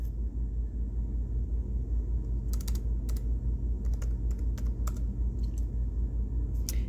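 Keys clatter on a computer keyboard as a web address is typed, short bursts of clicks over a steady low rumble, fairly close and without speech.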